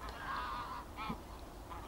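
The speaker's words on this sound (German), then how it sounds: "Die Gänse machen ganz schön Theater." Geese honk in a misty morning at Lower Oder Valley National Park, with a few distant nasal calls against a low background rumble, faint and spread out.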